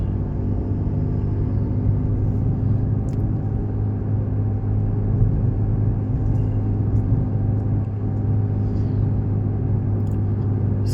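Inside a moving car on a road, the engine gives a steady, low, droning rumble that stays even throughout, with faint road noise and no talk.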